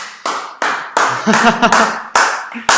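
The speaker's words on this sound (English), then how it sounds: "We didn't expect this applause" Audience applause breaks out in short, sharp bursts of clapping that start and fade repeatedly, mixed with speech and murmuring voices in a hall.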